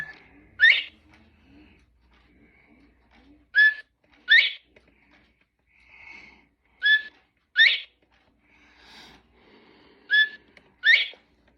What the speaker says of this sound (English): 5 o'clock is the northern bobwhite.